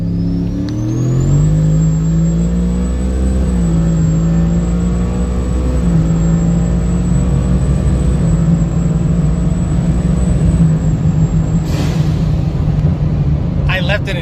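Turbocharged Ford F150 engine running at 10 psi of boost, with a deep, steady, loud rumble throughout. Near the end a brief burst of noise and a short break are heard, and no talk can be made out.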